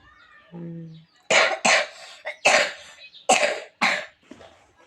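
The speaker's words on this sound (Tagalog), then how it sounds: "Yan lang ubo ang nagpabilin" A run of loud, sharp coughs, five or six bursts in quick succession, close by after a brief low vocal sound.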